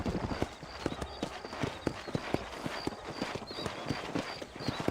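Horses in the video game Red Dead Redemption clip-clop along at a walking pace, with repeated hoof strikes in a loose, uneven rhythm, close and clear over light ambient background, and no talking.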